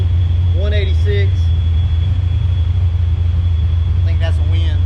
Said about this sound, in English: The car's sitting here idling, 186.